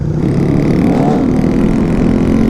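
Honda Grom motorcycle held at high revs on a night ride near Tampa's Gandy bridge, a steady loud engine drone with layered harmonics under wind noise, continuous throughout.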